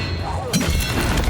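Spell impacts from Confringo and Expelliarmus in the video game Hogwarts Legacy: a sudden thudding crash around midway, followed by crackling, smashing bursts over a busy game mix.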